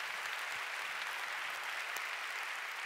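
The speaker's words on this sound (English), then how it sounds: "Let's one more round of applause." Distant, quiet applause from the audience at a service summit, soft and continuous throughout, heard from far back in a large hall.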